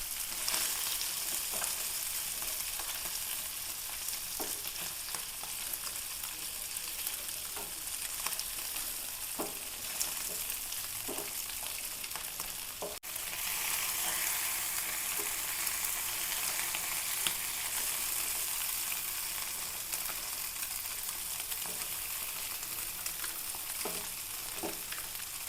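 Masala curry fries in a pan, a soft steady sizzle broken by repeated light scrapes and taps of a spoon stirring, close and quiet with no talking.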